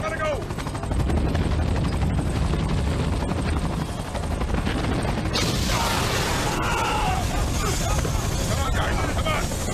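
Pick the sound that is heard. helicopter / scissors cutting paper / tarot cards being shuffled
helicopter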